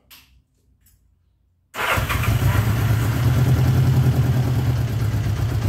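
A 1979 Honda GL1000 Goldwing with many issues fires up after near silence and settles into a loud, steady idle on half choke, running a little rough with a throbbing, uneven engine rumble.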